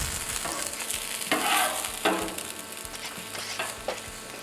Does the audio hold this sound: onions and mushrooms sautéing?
yes